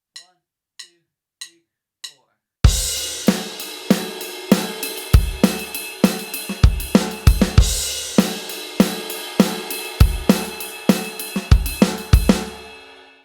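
A drum kit plays a bridge groove: four sparse count-in clicks, then a tight, punchy funk pattern of kick, snare and hi-hat, loud and close.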